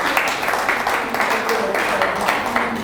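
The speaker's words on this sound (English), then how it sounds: "Please keep clapping for the doctor." An audience at a lecture on workers' health claps for a doctor, a dense, continuous patter of many hands at steady level throughout, fairly close and full.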